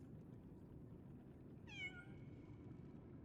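A small kitten in Lies of P gives a single short, high meow, faint and clear over a low murmuring background, no voices.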